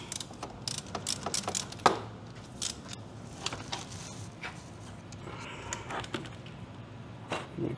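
A 17 mm socket wrench loosening the oil drain bolt on a 2024 Kawasaki Ninja ZX6R, with quick bursts of ratcheting clicks close by, followed by scattered lighter clicks and handling noises.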